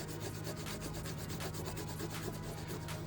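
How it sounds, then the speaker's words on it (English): A gray Scotch-Brite pad scrubs a B18 engine part after a brake-clean spray, making steady, continuous rubbing and abrasive scratching at close range with no pause over the span. "And then you just hit it with the Scotch-Brite real quick."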